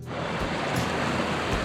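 A waterfall gives a loud, dense rush of water, steady and close, with no voices over it.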